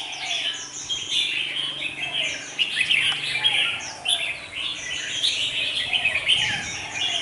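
Red-whiskered bulbul songbirds calling steadily, bright chirping phrases overlapping close by with a few wing flaps, no talking.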